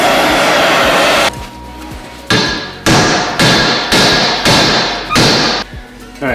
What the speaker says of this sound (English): Trick's to beat it with a hammer.